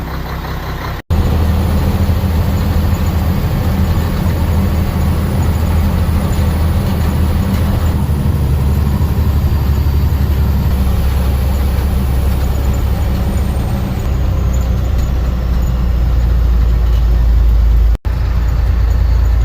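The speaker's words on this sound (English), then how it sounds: "truck's probably warmed up." A warmed-up truck engine idles steadily and loudly up close, a continuous low diesel rumble with air-system hiss, holding even throughout apart from brief dropouts.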